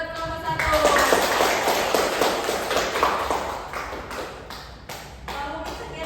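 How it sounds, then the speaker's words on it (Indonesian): Students in a classroom give group 1 a burst of applause, with dense clapping that gradually thins out, mixed with a few voices talking. "beri aplaus buat kelompok 1"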